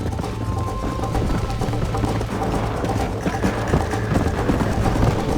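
Rhythmic hoofbeats of a galloping horse in the video game Red Dead Redemption pound steadily over rumbling background noise, loud and continuous.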